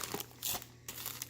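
Crinkling and crackling of packaging as a Stampin' Up Paper Pumpkin card-making kit is opened, with a few short bursts of rustle separated by brief pauses at moderate volume.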